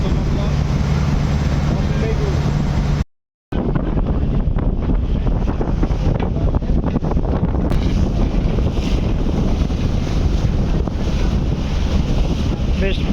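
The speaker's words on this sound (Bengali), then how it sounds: "ঢাকা থেকে দশটা পঁচিশে ছেড়ে বেশ ভালো গতিতেই ছুটে চলেছে এমবি বগদাদিয়া ছয়" Passenger launch MV Bogdadia 6, out of Dhaka, cruises on a river in stormy weather, with a loud, steady roar of wind buffeting the microphone over rushing water and a brief dropout near the start.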